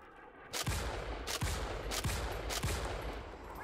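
Gunfire in the video game Starship Troopers: Extermination, four loud, sharp shots spaced roughly a second apart, each with a booming low tail, over a steady background rumble.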